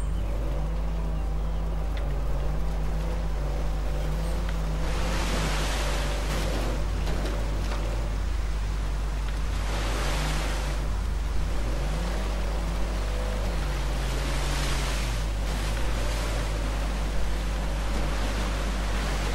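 Continuous broadband rush of a waterfall in Uncharted 4, steady and full throughout under a low droning game music bed, with brief surges of louder noise.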